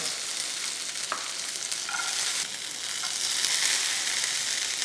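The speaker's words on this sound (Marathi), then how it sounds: "ह्या छान परतून घ्यायचं आणि नंतर यात भिजवलेले शेंगदाणे" Green chilli, garlic and soaked peanuts being sautéed for a village-style spinach bhaji: a steady, close hiss of frying oil runs throughout with occasional stirring scrapes, and nobody talks.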